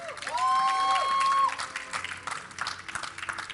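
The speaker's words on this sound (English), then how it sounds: "if you guys want to cheer for the blue team, for Dignitas, let me hear you guys in the crowd" Live League of Legends grand-finals crowd cheering and applauding for Team Dignitas: a loud swell of applause and shouts, with a whistle-like tone at the start, then fading into scattered clapping.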